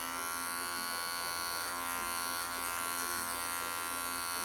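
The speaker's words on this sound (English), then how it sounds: "then you start flicking your clippers out at that point" Electric hair clippers buzz continuously and close while cutting hair over the ear during a home haircut, a steady electric drone with slight shifts as they move.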